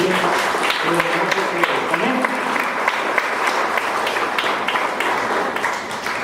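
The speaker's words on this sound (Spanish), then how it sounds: "Denme un aplauso a Jesús" A church congregation applauds for Jesus during a service, dense continuous clapping filling the room alongside cheering and voices, with a spoken word heard over it.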